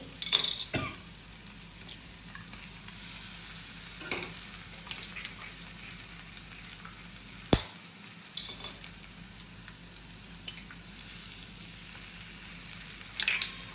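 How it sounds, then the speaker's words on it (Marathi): Eggs fry for egg bhurji in a pan, a steady close sizzle running throughout with a few spoon scrapes and clinks against the pan, no voices. "आणि आता घालता हांव अंडी"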